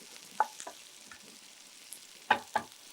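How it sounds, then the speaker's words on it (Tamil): Vegetables for vegetable semiya stir-fried on a high flame: a faint background sizzle with a few sharp scrapes and clacks of the spatula against the pan, clustered near the start and end. "கொஞ்சம் ஹை ஃப்ளேமில் வச்சுட்டு ரொம்ப ஷார்ட் பீரியட் ஃப்ரை பண்ணால் போகிறோம்."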